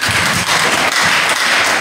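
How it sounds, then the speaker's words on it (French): A church congregation applauds steadily, a dense, loud wash of many hands clapping that fills the space with only slight swells and no voices standing out. "Applaudis, chaque monde qui n'a pas applaudi."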